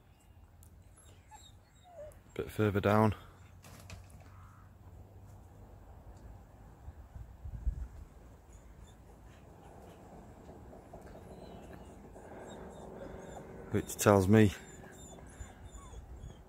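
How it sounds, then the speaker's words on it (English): A dog whimpers and whines in two short bursts, a high wavering cry early on and another near the end, with someone talking quietly between them. "Dogs are really keen at the end here."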